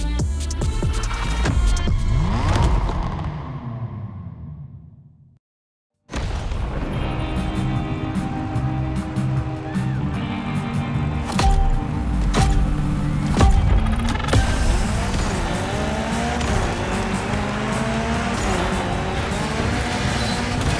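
A Mitsubishi Evo 9 rally car engine in The Crew Motorfest gymkhana event roars and revs hard, cuts to brief silence, then returns with a loud, sustained, throbbing drone punctuated by sharp bangs.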